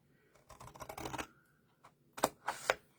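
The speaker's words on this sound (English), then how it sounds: "now I'm going to just take my scissors and I'm just going to cut a V here" Scissors cut a V notch into a paper card folio where two score lines meet: a few crisp, close snips near the end, after softer paper rustling earlier.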